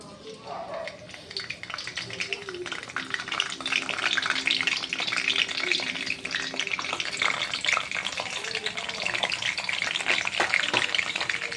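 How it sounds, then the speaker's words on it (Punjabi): Cumin seeds and curry leaves hit hot oil for a rajma tadka, rising into a loud, continuous crackling sizzle close by that builds after the first couple of seconds, with a voice talking over it. "ਤੇਲ ਗਰਮ ਹੋ ਗਿਆ ਆ ਜੀ ਹੁਣ ਸਭ ਤੋਂ ਪਹਿਲਾਂ ਅਸੀਂ ਜੀਰਾ ਪਾ ਦਾਂਗੇ ਕੜੀ ਪੱਤਾ ਪਾ ਦਾਂਗੇ"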